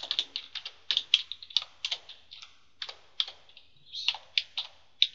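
Close, crisp typing on a computer keyboard during programming work. Quick clusters of key presses come in irregular bursts with short gaps between them.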